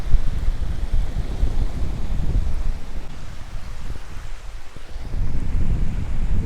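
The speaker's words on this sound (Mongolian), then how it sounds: "Ийм гоё давалгаатай" Waves washing onto a shore with wind blowing, a steady loud broadband wash that swells and recedes, dipping briefly in the middle before building again, with no voices.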